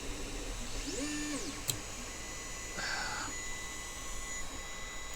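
A 3D printer's stepper motors whine through rising and falling sweeping tones, with a short sharp knock as the print head kicks a printed part off the bed, then more motor tones and a faint click at the end.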